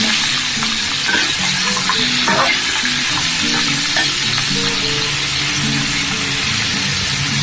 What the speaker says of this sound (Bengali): তেল গরম হয়ে গেছে কোনো ফোড়ন দিচ্ছি না এখানে আলু আর দিয়ে দিলাম